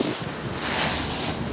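Wind gusting outdoors in a yard among fallen leaves and bare ash trees, a steady broad rush buffeting the microphone and swelling midway, with no voices.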